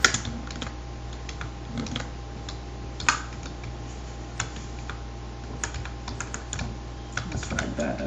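Rapid clicks of a computer keyboard as code is typed, irregular bursts of keystrokes with brief pauses, close and fairly quiet.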